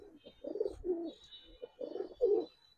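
A pigeon coos in close, distinct bursts, four or five rolling calls in quick succession with brief pauses between them, alone without talk.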